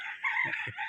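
A chicken at an animal cafe in Bahrain makes two quick, low clucks close by against a steady high-pitched background tone.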